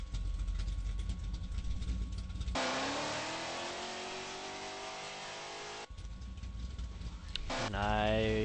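A car engine in a driving video game accelerates in fifth gear with a rising, sweeping whine. The revving climbs steadily, breaks off, then surges again near the end at moderate volume.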